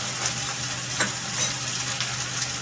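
Vetki fish bones sizzle steadily in a hot pan while being stirred, a continuous close frying hiss with occasional soft scrapes from the stirring, no voices.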